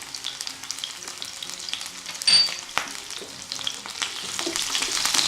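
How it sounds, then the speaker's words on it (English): Spring onions and garlic paste hit a hot pan in a stir fry, a crisp continuous sizzle with a sharp pop and crackle that rises toward the end, close, with no talking. "Nice sizzle, and some garlic paste."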